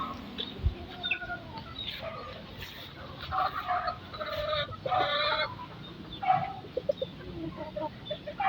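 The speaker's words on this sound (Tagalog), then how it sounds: "Ayun, may lumapit na inahin." Hens clucking in short, irregular bursts over a busy farmyard background of other poultry calls and scuffling, moderately close.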